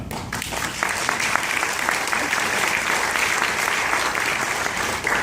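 A film festival audience breaks into applause, a few sharp early claps quickly swelling into full, even clapping from a large crowd that holds strong throughout.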